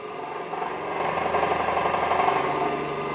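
A DC motor on a laboratory bench speeding up as its field current is reduced, a steady mid-pitched whir and hum that grows slightly louder and busier after the first second, with no talking.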